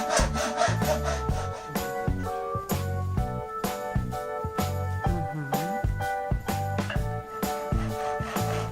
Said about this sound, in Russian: Также отмеряем и пилим 2 рейки по 50 сантиметров.